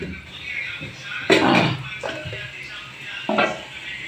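Bitter gourd pieces with turmeric and salt are stirred and roasted in a pan, with a spatula scraping and clinking against the metal in a few separate bursts over a faint sizzle, close and without talk.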